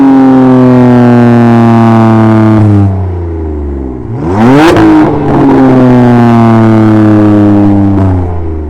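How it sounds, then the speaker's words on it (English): BMW F80 M3 tuned with the Bootmod3 GTS burble setting revs up loudly, then the engine note sweeps down and hangs before climbing again, a sustained droning exhaust with rising and falling pitch and no talk. "I noticed that the revs kind of hang out in the GTS burble"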